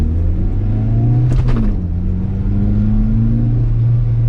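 A Toyota Corolla with a 1.8-litre engine pulls away from a standstill. The engine's rumble climbs steadily, with a short shift-like break midway. The sound is loud and close, with a faint whir and no voices.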